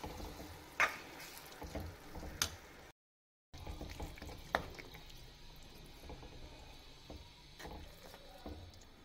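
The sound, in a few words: mixing baingan bharta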